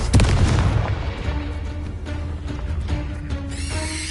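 A Confringo spell explosion in the video game Hogwarts Legacy, one heavy booming blast up front that decays into a rumbling tail with scattered crackles and ringing tones.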